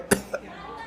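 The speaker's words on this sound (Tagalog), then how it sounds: "Inuubo lang po ako" A boy's short cough, a sharp burst followed by a smaller second one, close and clear with no talk.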